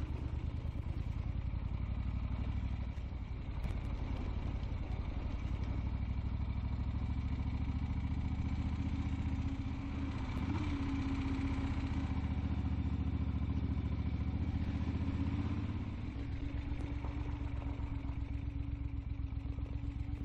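An Eldorado motorcycle engine runs steadily on a gravel road, a continuous low rumble with a faint clatter and wind noise beneath it, close and unbroken throughout with no talking.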